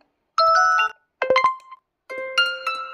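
Notification tones from a OnePlus phone play as three short electronic chimes, each a quick bright melodic phrase, separated by brief silences, clear and close with no voices.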